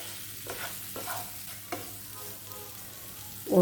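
Masala-marinated prawns for a dry roast fry in a pan, and a few distinct stirring scrapes cut through the soft sizzle, close and moderately quiet, with no one speaking.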